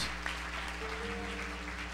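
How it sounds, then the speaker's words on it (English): A church audience claps hands in praise, a steady, moderately loud patter of applause from many people, sustained throughout under faint room tones. "Let's give Tyler a hand clap of praise through God"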